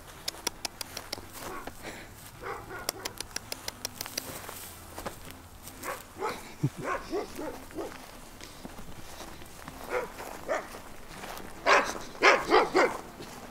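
A dog barks at cows in scattered bursts at moderate distance on a rural property, quieter early on and then a quick cluster of louder barks near the end.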